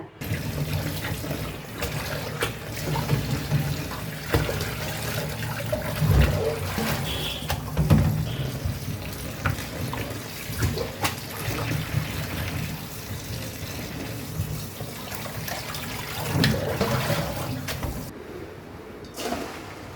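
Tap water runs steadily at a kitchen sink while cut banana flower and leafy greens are rinsed, a continuous close splashing flow with small clatters and no speech over it.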